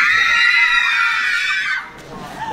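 A group of people at a camp shout a loud greeting together, a sustained chorus of raised voices that holds for nearly two seconds and then breaks off, leaving quieter background noise.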